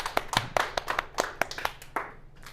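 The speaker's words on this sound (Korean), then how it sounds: "박수!" About a dozen sharp hand claps from a small group in a classroom, uneven and fairly close, fading out within a few seconds.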